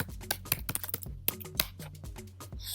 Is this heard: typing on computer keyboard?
yes